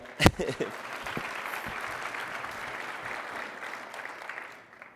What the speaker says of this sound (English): Could you please give a warm round of applause to Glenna?